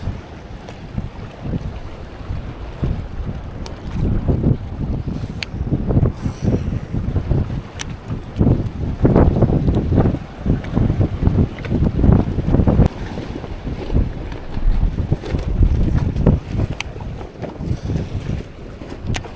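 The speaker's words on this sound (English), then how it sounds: "Check out some of these freaking real windy areas." Strong wind over a lake buffets the microphone in loud, low gusts, with a steady rush of choppy water underneath and no one speaking.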